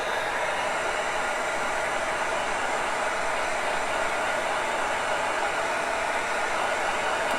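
A heat gun blowing hot air to soften paint during a bathroom makeover, a steady, loud, close whooshing roar that runs unbroken throughout.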